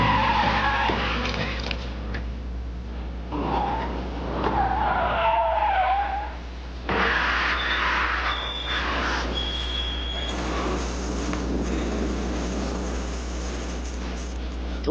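Race cars at a racing school skid with long tire squeals over a loud, continuous engine roar, heard close with shifting intensity throughout.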